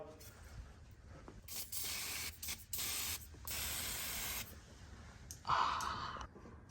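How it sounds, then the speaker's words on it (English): Several short hissing bursts from an aerosol can of PB Blaster penetrating oil, sprayed on exhaust parts of a 2005 GMC Yukon, each lasting a second or so with brief pauses between, close up, followed by a faint clink. "Let's spray all this stuff with this PB blaster first"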